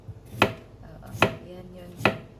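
Three sharp, evenly spaced blows of a knife or cleaver smashing ginger on a chopping board, close and distinct against a quiet kitchen background.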